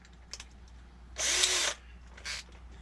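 A power drill driving a screw during a Volkswagen camper van conversion whirs in a short burst of about half a second, then gives a second quick spin, fairly close in a quiet room.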